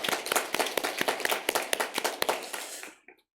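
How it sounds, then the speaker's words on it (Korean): A church congregation at Sunday worship claps to welcome a pastor, brisk, fairly close clapping with distinct individual hand strikes that stops abruptly after about three seconds. "박수로 환영하겠습니다."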